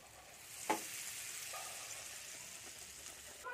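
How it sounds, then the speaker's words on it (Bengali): Vegetable chops sizzling as they fry a second time in oil over a low gas flame, a steady close crackle with a single sharper pop near the start. "এগুলোকে আর একবার ভেজে নেবো।"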